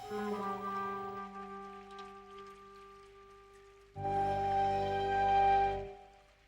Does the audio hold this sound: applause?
no